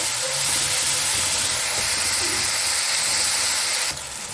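Spice paste fries in oil for a Bengali rui fish curry with a constant loud sizzle and hiss, close up, easing slightly near the end.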